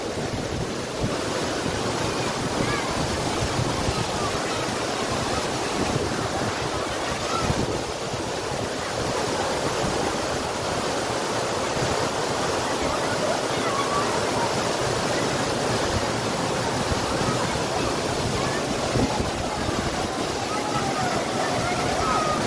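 A steady, broad rush of heavy water from Vyaghreshwar waterfall at Manche, Devgad, Sindhudurg in the Konkan, in strong flow with spray flying, filling the air close by at an even, unbroken loudness.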